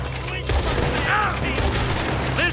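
Gunfire in Red Dead Redemption 2, a steady barrage of overlapping shots and crackles at close range, with faint voices mixed into the din.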